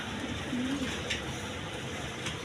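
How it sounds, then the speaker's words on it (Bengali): Soft, low pigeon cooing close by, a single rolling coo over faint background noise. "এখানে আরেক পেয়ার কবুতর আছে দেখেন"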